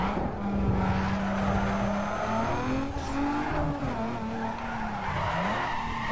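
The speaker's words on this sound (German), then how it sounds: "Ich glaube, dieser Drift wird nichts wieder." Tires screech in a long, sustained skid as a car drifts in the Need for Speed Underground 2 street-racing game, the whining squeal wavering in pitch over a steady engine drone, loud and close, with no talking.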